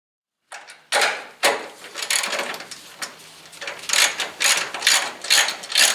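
Ratchet wrench loosening the upper front strut bolts on a Ford ZX2, with rapid close pawl clicking in uneven bursts and short pauses, loud and alone without talk.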